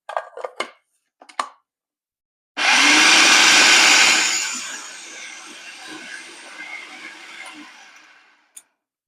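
After a few light clicks, a food processor pureeing white beans with parsley and garlic starts up with a loud, steady whirring roar. It settles into a lower, uneven grinding whir for several seconds, then stops, followed by a single click.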